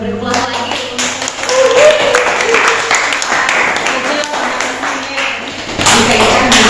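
Classroom audience in Indonesia applauding, a scattered, moderately loud patter of hand claps running continuously under a teacher's voice.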